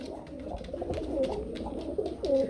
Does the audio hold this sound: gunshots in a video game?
no